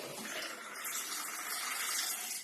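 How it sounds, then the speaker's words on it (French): Vodka, a 4 cl measure for an espresso martini, pouring in a steady close stream for a couple of seconds, a soft continuous liquid rush with no talk. "on va commencer avec 4 centilitres de vodka"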